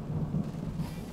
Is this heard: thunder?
yes